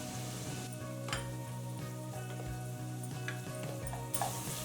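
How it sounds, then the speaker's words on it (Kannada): Ginger garlic paste frying over a low flame for a mixed vegetable kootu, giving a soft, steady sizzle with occasional light stirring clicks, faint and continuous throughout. "ಲೋ ಫ್ಲೇಮ್ ಇಟ್ಕೊಂಡೆ ಫ್ರೈ ಮಾಡ್ಕೊಳ್ಳೋಣ"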